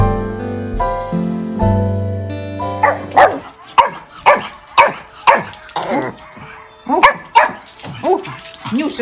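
A small dog yips and barks at a recording of dogs barking, opening with a tonal whine and then a run of about ten sharp, rhythmic barks close by.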